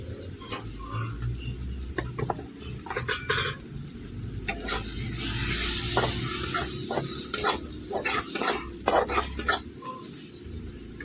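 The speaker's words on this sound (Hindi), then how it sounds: "और मसाला बहुत ही अच्छी तरह से भून चुका है दोस्तों।" Masala of coriander, cumin, poppy seed and chilies sizzles in a pan while a spoon stirs it in repeated close scraping strokes, with the frying hiss swelling midway.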